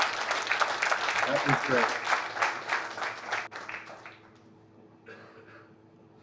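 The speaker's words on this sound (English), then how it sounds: "applause for Mike for coming up next" Meetup audience applauding a speaker at a last mile delivery event, a burst of clapping that fades after a few seconds, with a voice speaking briefly over it and quieter room sound trailing off.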